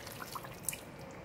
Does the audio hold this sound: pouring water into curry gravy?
yes